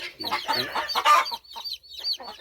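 Hens and newly hatched chicks cluck and peep close by, a busy run of short, overlapping clucks with brief pauses between, no talk.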